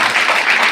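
A crowd at a Congress party block office gathering applauds loudly. The clapping is close and continuous, swelling slightly in waves over under a second, with no speech.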